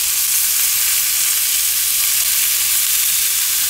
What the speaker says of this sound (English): We have our crust, so it is time to flip them.